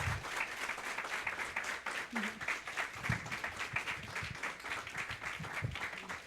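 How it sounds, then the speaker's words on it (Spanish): An audience at a university astronomy lecture on galaxies and dark matter applauds, a continuous patter of many hands with individual claps standing out, fairly even for several seconds. "vamos a darle un fuerte aplauso"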